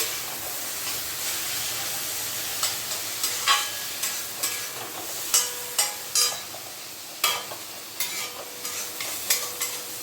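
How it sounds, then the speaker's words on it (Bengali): Mustard paste frying in a pan with taro stolons gives a steady sizzle and hiss, broken by a run of sharp spatula scrapes and clinks that grow more frequent partway through. No voices are heard. "এবার সর্ষেটা দিয়ে একটু কষিয়ে নিচ্ছি।"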